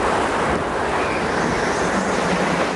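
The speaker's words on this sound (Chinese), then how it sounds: "风声等等" Wind roars in a steady, dense broadband rush that holds an even level throughout, with no voices.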